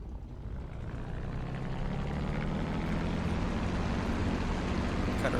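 A TF-51 Mustang, the two-seat P-51 warbird, runs up its piston engine as the throttle opens, a loud, steady broadband roar that swells slightly and holds continuously with no talking.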